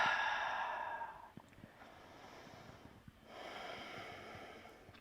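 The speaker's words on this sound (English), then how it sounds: "Exhale out your mouth." Slow yoga breathing, with a long, soft breath out through the mouth, then a quiet pause and a second gentle breath, close and faint.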